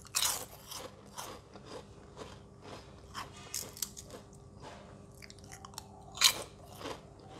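Crispy chips revived from stale are bitten and chewed close up, giving a string of quick crunches and crackles at an irregular chewing rhythm, fairly quiet, with no talk.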